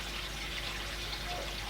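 Water flows back into a garden pond through a return pipe, a faint, steady rushing and trickling hiss that continues evenly for a moment without any voices.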